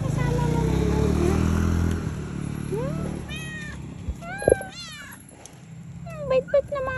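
Cats at an outdoor hangout spot meow several times, short rising cries that come near and clear, with a motor rumbling and a voice talking at the start.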